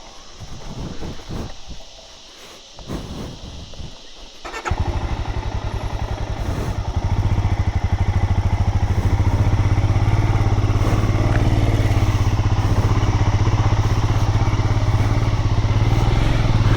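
A motorcycle starts up and rides out along a rough old road, its engine note rising to a loud, steady drone up close after some quieter handling sounds at the start.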